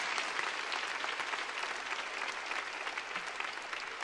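A church congregation claps loudly and continuously in a dense, sustained burst of applause during a worship service, with no clear voices over it.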